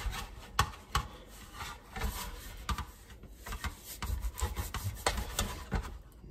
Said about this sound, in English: I just take this butter and I rub it all on the bottom here